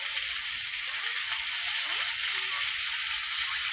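Meat fries in a pan with spices as it is stirred, making a constant bright sizzle that stays close and even throughout.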